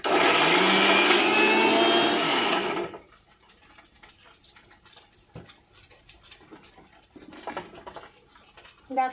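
A kitchen grinder whirs loudly for about three seconds, blending garlic, green and dried chillies and onion into a paste, then cuts off, leaving faint clatters and quiet room noise.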